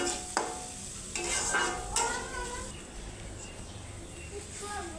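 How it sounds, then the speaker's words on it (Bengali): Pointed gourd frying in a pan for bharta, with steady sizzling and a few scraping stirs, close and moderately loud throughout. "এখন আমি রান্নাবাড়া করছি, পটল ভর্তা করবো, ভেজে নিচ্ছি"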